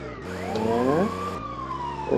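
In the video game GTA 2, an ambulance siren wails close and loud, sweeping up and down in pitch over engine rumble, with no voices.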